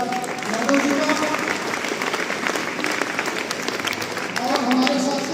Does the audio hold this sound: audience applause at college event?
yes